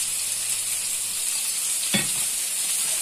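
Lightly salted onion sautés in a pan that has just been used to brown chicken rolls, producing a continuous even sizzle with a single soft knock of a utensil midway.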